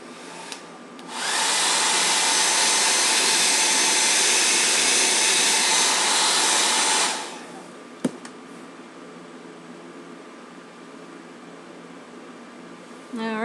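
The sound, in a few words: blow dryer drying Jamberry nail shield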